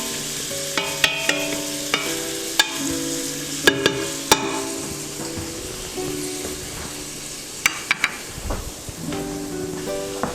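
Onions cooking in bacon fat in a pan for Southern braised greens give a steady sizzle, with sharp clicks and scrapes of a spoon stirring through them every few seconds.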